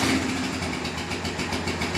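An old abandoned Honda four-wheeler ATV running on old gas idles with a steady, rough, pulsing engine rumble, close by and continuous.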